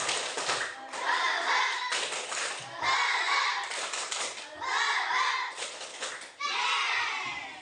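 A classroom of primary school children performs a rhythmic spirit clap in repeated bursts, the clapping sharp and close, with short pauses between sections and young voices joining in.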